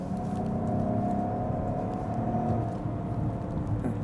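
Peugeot 408 in sport mode accelerating hard at full throttle, a steady rising engine note and road roar heard from inside the cabin, continuous and moderately loud.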